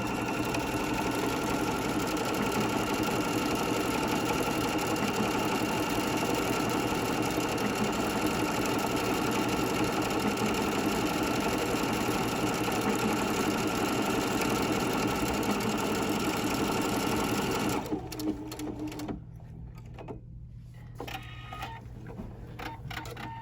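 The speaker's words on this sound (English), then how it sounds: "So let's sew one and see what it looks like." A Husqvarna Viking sewing machine stitches a decorative line of evenly spaced hearts. It runs at a steady, close, continuous hum and needle clatter for about eighteen seconds, then stops, leaving a quieter room.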